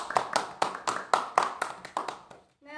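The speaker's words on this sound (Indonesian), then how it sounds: "beri aplaus untuk Rizka" Classroom applause for a student after a mind-mapping presentation on composite and inverse functions, a string of sharp, evenly spaced claps fading out, followed by a brief tonal sound at the end.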